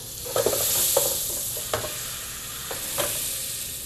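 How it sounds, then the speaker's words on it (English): Butter sizzles and crackles steadily in a saucepan as a sauce for a potato-carrot casserole begins, close up, with a few clinks and scrapes of stirring. "We got that sizzle"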